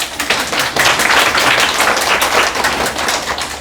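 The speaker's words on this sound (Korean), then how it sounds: "박수!" Loud, dense crowd applause at a motivational lecture in the Gyeonggi Provincial Office hall, a continuous rush of many hands clapping close by that swells and then eases slightly near the end.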